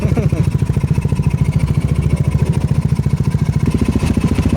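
An Aerox V3 motorcycle engine idles with a steady, throbbing rhythm close by, its rapid regular pulses continuing unchanged throughout.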